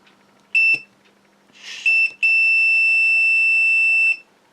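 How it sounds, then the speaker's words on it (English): A multimeter continuity tester beeps while probing a drone flight controller board, with a short tone, then a brief one, then a sustained high pitched beep about two seconds long. The beeps are loud and close against a quiet background. "the continuity signal coming through"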